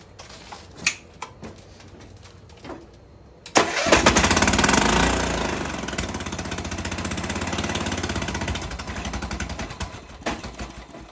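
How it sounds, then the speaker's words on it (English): A mud mower's engine is cold-started after some faint clicks and knocks, catching with a sudden roar and then running loud and steady, its revs easing slightly before settling near the end. "Now, let's do a cold start."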